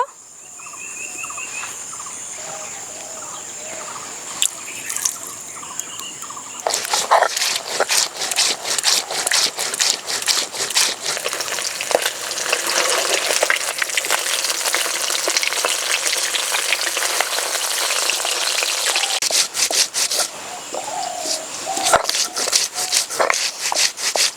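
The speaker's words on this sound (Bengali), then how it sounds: "মাছ এভাবে ভেজে নিলাম" Bata fish frying in a pan make a loud, busy sizzle with crackling spatter and bursts of stirring or turning, steady and close for over twenty seconds, with no one talking.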